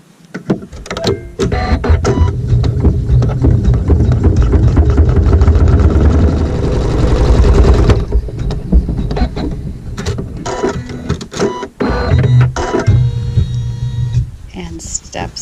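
A sewing machine stitches a seam on a crazy quilt triangle block, running in a dense steady whir for several seconds, then shorter bursts and handling noise near the end.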